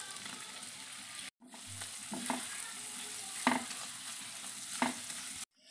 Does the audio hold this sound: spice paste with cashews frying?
yes